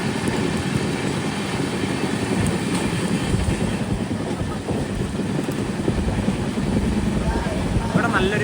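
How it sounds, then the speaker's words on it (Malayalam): Inside a Mumbai AC local train running during the monsoon, a steady roar of wheels and carriage rumble fills the cabin with faint clickety-clack, continuous and close. "AC local ട്രെയിനാണിത്."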